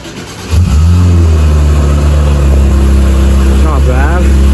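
Porsche GT4 RS sports car engine catches with a loud burst and settles into a strong, steady idle with a slight rev near the end; a voice talks faintly nearby.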